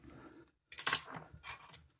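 Scissors snip excess thread while a Cheese Squirmy Worm fly is tied, giving a couple of quiet, brief close-up cuts separated by silence.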